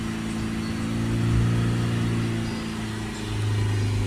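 A Ford Transit 350 MK8 minibus with the 2.2 RWD Euro 6 diesel engine is held at a steady 3000 RPM, giving a close, continuous droning hum that swells slightly midway and again near the end.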